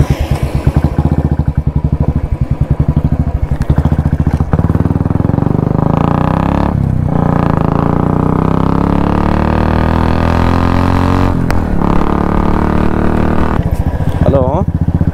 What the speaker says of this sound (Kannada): 20 ಬೈಕ್ ಬಂದಿದೆ. ಸೊ ಅಲ್ಲಿ ಇನ್ನೂ ಒಂದು 30-35 ಬೈಕ್ ಬರುತ್ತೆ.